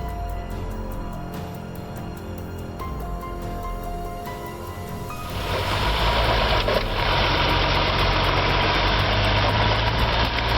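An IH-806 tractor stuck deep in mud idles steadily, then its engine revs up into a louder, sustained roar about halfway through and holds there to the end.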